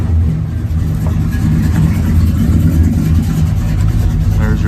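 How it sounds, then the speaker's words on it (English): A 1970 Chevrolet Chevelle SS with a built-up engine and dual exhaust rumbles loudly at close range, a deep steady idle with slight swells in revs and no talk over it. "Got good sound, dual exhaust."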